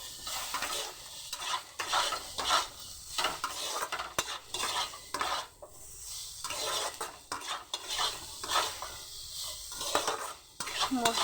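Spices with salt, turmeric and chilli powder fry in a pan for a mixed vegetable dish, rhythmic scraping and clinking stirs over a steady sizzle, close and busy throughout.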